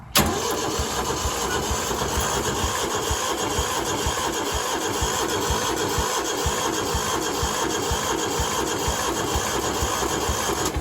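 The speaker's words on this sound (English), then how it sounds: "I'm not gonna heat the glow plugs up. Let's just crank it." A diesel engine cranks over steadily for about ten seconds with its glow plugs left unheated, the starter churning in a fast, even, loud rhythm without catching, close by and with no voices.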